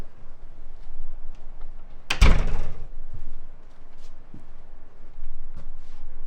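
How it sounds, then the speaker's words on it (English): An office door shuts with a single loud thunk partway through, followed by quiet room tone and faint small knocks. "Close the door."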